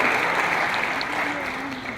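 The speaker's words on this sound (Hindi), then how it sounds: "एक बार अपने लिए जोरदार तालियां बजाएं" Audience at Marvi's Fair, a festival at Liaquat Memorial Library, clapping in a dense, steady burst of applause that fills the short moment at close range.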